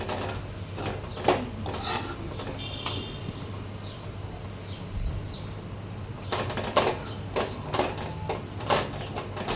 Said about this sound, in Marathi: रवा लाल होईपर्यंत थोडा भाजून घ्यायचा आहे कांदा आणि टोमॅटोमध्ये.